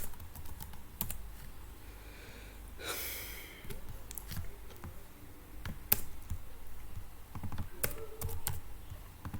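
Code is typed on a computer keyboard in a quiet room, with irregular close key clicks and taps plus occasional breathing, no speech.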